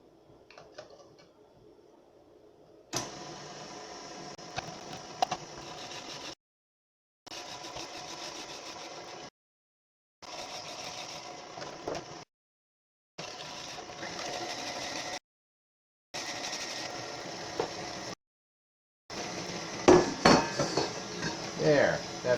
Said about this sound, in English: And now I'm ready to shred carrots.